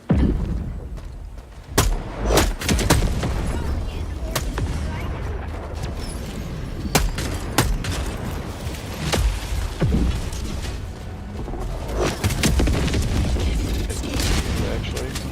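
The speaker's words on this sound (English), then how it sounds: "Oh, you had time to throw grenades?" Grenades go off in a video game battle, loud sharp booms and bursts of gunfire scattered irregularly over a constant din of combat noise.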